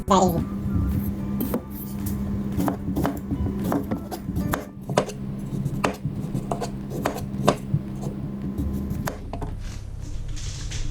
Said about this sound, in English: literally just cut them up into little cubes